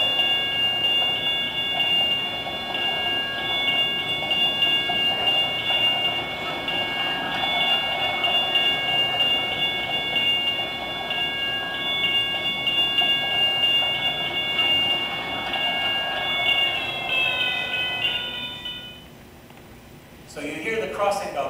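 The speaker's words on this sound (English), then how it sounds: "let your ears tell you just when the train passes the crossing" A railroad crossing bell rings steadily with rail rumble as a train passes the crossing. Its pitch drops sharply near the end and the sound thins to a quieter level.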